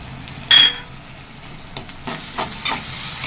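Onion sautéing with ginger garlic paste in a pan for chicken gravy, a close sizzle broken by a few sharp spoon scrapes and stirring strokes, with no talking.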